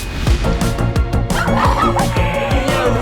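Rhythmic clucking and squawks from poultry repeat steadily over a busy background, with no one speaking.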